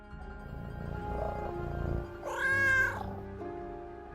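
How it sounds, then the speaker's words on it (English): A real household cat lets out a single drawn-out meow, close and clear, over faint background hum. "is a cat meow from a real cat in my household"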